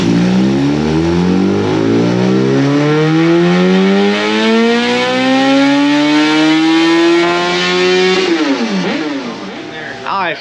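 A Gen 3 Hayabusa motorcycle on a dyno, tuned on pump gas, revs in one long loud pull that climbs steadily in pitch. The engine then drops off sharply and quietens toward the end.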